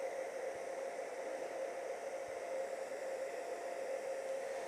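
A hair dryer blows steadily on a kydex holster area, a constant broadband whoosh with a faint hum, close and unbroken with no talking.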